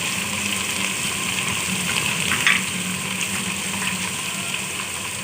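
Potatoes and onions fry in hot oil for aloo tahari, a steady, even sizzle that holds for several seconds with a faint scrape of stirring near the middle.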